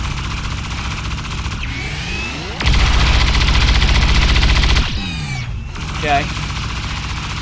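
Rapid automatic gunfire in the video game XCOM 2 rattles in a sustained loud burst mid-clip, framed by game sound effects and a brief spoken word.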